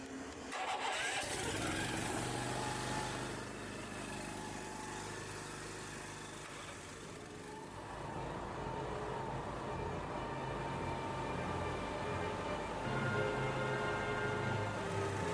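Four gas pressure washers run together as a loud, continuous droning engine roar, steady throughout with a slight swell partway.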